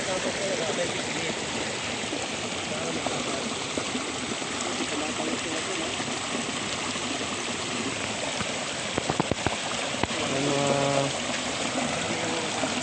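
Strong water overflowing a fishpond rushes in a loud, continuous broadband roar throughout, close and steady, with a few faint knocks near the end.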